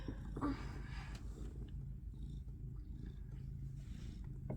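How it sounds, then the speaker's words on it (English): A male cat purrs steadily up close on a blanket, a continuous low rumbling vibration with no voices over it. "You hear him purring? Yeah, you hear purring."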